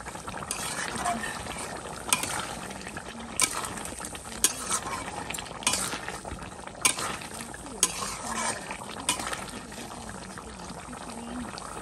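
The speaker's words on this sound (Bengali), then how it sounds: "দিয়ে দিলাম, এখানে ভালো করে একটু কষাবো।" Curry is being stir-fried in a pan, giving a continuous sizzle with regular scraping strokes of a spatula at a close, moderate level.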